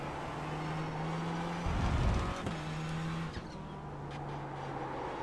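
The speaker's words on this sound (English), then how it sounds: "Fastest car coming up quick." Racing cars in the iRacing video game at night during a 24-hour race, a steady engine drone with a loud low roar as a fast car sweeps past, then the hum resumes.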